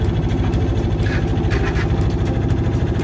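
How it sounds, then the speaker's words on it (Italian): A sailboat motoring under engine at about 4 knots gives a steady, even engine drone with low rumbling tones that holds unchanged throughout, with no one talking. "Stiamo procedendo a motore su 4 nodi"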